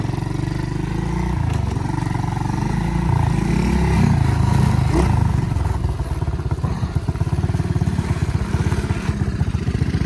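A small pit bike dirt bike engine in second gear, loud and close, rising and falling in pitch as the throttle opens, then settling into a rapid rough putter.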